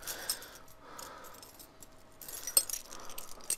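Keys jangle in short metallic bursts while a package is opened, with a sharper clink partway through and softer rustling between, close to the listener and without speech.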